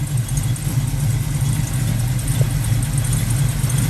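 A 1968 Chevrolet Camaro V8 idles steadily close by, a loud, even low rumble with a constant throb and no talking.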